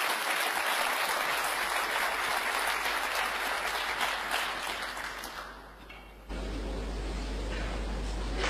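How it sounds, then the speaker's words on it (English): A crowd bursts into sustained applause in a snooker hall during a Williams versus Dott tour match, a broad, even wash of clapping that fades toward the end before a sudden cut to different room noise. "You might have heard a burst of applause."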